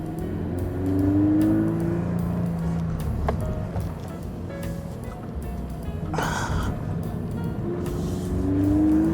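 A Subaru BRZ sports car engine droning on the road with a steady throaty hum and rising revs, heard from inside over road and wind noise, with no voices.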